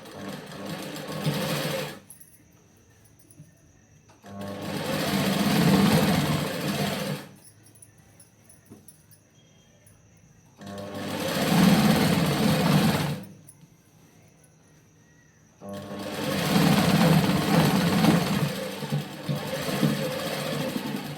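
A sewing machine stitches cloth for a garment alteration in four separate bursts of rapid whirring, each lasting a few seconds and separated by quiet pauses.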